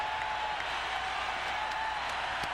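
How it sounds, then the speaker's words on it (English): Crowd cheering and applauding in an Oakland basketball arena during a 1994 NBA playoff game, Suns versus Warriors, a loud sustained roar filling the space with a faint tone running underneath. "And the crowd into it big time now here in Oakland."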